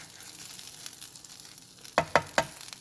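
French toast fries gently in a pan on low heat, a soft steady sizzle ending in three sharp clicks or taps close by, with no talk.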